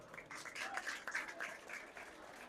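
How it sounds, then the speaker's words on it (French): Brief, moderately loud applause from an audience at a school excellence ceremony in Yeumbeul Sud, a dense patter of clapping that swells and then thins out. "Ils méritent des applaudissements."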